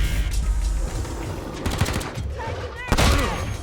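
Gunfire in the video game Wasteland 3, bursts of shots crackling through a busy game mix with a sharp louder volley near the end, over music and game sound effects.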